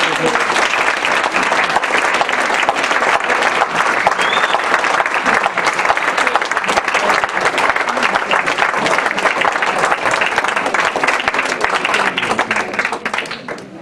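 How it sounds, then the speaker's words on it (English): Loud, sustained applause from a large crowd at a candidate forum, dense continuous clapping that holds steady throughout and thins slightly at the very end. "let's give the candidates all a huge round of applause."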